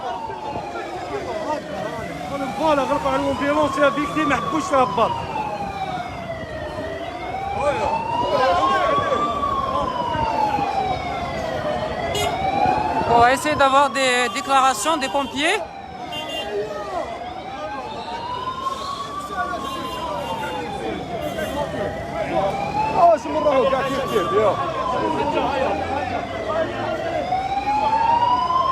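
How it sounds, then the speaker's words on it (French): A loud ambulance siren wails in a repeating rising-and-falling cycle as it tries to pass a police blockade in stopped traffic, persisting throughout while someone speaks over it. "Donc il y a l'ambulance qui tente de passer."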